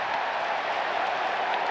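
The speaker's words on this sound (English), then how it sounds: "And you hear the crowd." A crowd of over 30,000 at an Angels baseball stadium applauds after a fielding error, making a broad, continuous wash of distant clapping at an even level.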